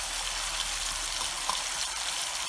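Carp fish curry with potato and tomato sizzles in hot oil, a steady close crackling hiss that holds evenly throughout with a small pop midway.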